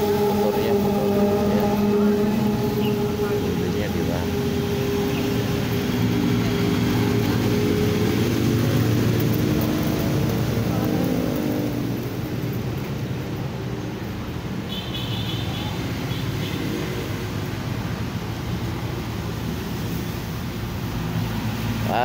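A boat motor drones steadily on Manila Bay, a continuous low rumble that holds loud and even throughout, with open-air noise around it.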